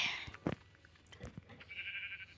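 A sheep bleats close by a couple of times, short wavering cries over quiet outdoor background.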